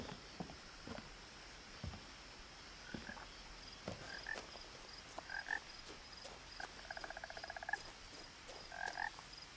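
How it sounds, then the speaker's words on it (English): Frogs croak in the video game What Remains of Edith Finch: scattered single croaks and a few quick pulsing trills ring out fairly faintly over a quiet outdoor ambience. "I keep hearing frogs"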